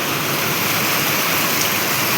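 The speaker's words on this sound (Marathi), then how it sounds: "खूप पाऊस आहे इकडं." Heavy rain pours down in a village, a dense, steady hiss that stays loud and unbroken throughout with no pauses.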